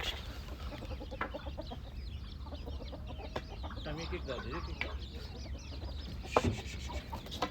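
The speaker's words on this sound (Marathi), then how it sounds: "कुठे ते कोंबड्या असतो हकलायच्या म्हणजे लय अवघड." Chickens cluck on a dairy farm, a steady low flock chatter with occasional sharper squawks, mixed with people talking nearby.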